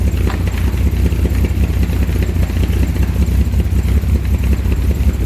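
A 1938 SS Jaguar 3½ litre engine running for the first time in over 50 years, a loud, steady, close rumble with a rapid even pulse and a light mechanical clatter.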